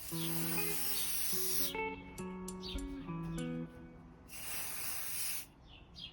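Plant care spray hisses from an aerosol can in two loud bursts, one at the start and another a few seconds later, with music playing softly underneath.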